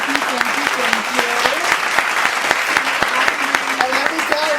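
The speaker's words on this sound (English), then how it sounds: "Give him the applause." A studio audience claps and cheers through a season-finale taping, with steady applause layered under an excited voice calling out over the crowd.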